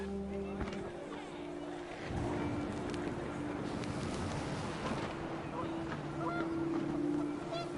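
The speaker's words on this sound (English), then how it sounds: "The wind picked up, and panicked geese appeared and quickly went." Panicked geese honk in a windy outdoor scene from the video game What Remains of Edith Finch, the calls rising through steady gusting wind noise alongside low tonal game ambience.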